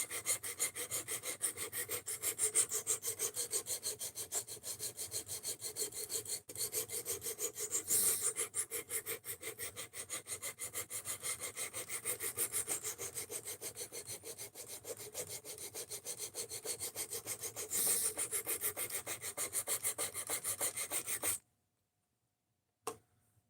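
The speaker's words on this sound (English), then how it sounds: "I'm using the worn out stone to establish my bevel" Knife sharpened on a worn whetstone, a steady run of rapid rhythmic scraping strokes, close and continuous for about twenty seconds before stopping abruptly, with no talk.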